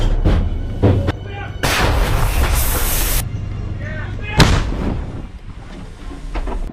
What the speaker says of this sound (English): Russian artillery opens up.